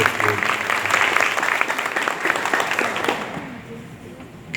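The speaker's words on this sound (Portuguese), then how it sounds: "Aplauda esse jovem que veio aqui" Loud crowd applause for a young man at a church youth service, dense and steady clapping that fills the room, then thins out and fades toward the end.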